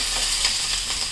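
Garlic tempering in hot oil sizzles briefly and steadily, a close, bright crackle with no talking.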